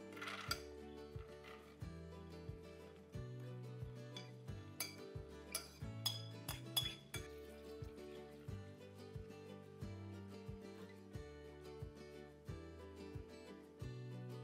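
Legumes and water go into a cooking pot, heard as scattered clinks and knocks of pot and utensils with faint watery sounds, fairly quiet and close, no speech.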